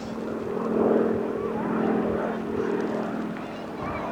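A Harvard propeller aircraft flying past at a 1984 airshow in Ballarat or Mangalore, a droning engine with a rising and falling pitch as it passes.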